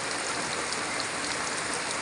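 Steady rain falls at eleven in the morning on a rural farming area, a dense, even hiss of drops hitting surfaces, close and fairly loud, continuous with no talk.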